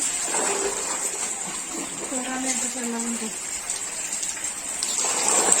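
Rainwater gushes and splashes steadily into a storage container, a continuous pouring sound with a voice talking over it.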